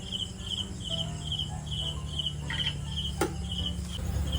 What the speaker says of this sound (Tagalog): Grabe yung sound ng kuliglig.